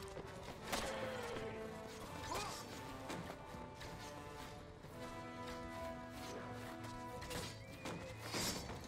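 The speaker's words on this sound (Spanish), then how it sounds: "A matar al caballo de Ulfas" In the video game Mount & Blade: Warband, with a Lord of the Rings mod, horses whinny amid a battle din of hoofbeats, clashing weapons and crashes, the neighs faint and mixed into the steady noise.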